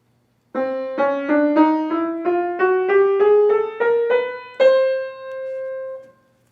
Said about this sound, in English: And on the piano, when you play a chromatic scale,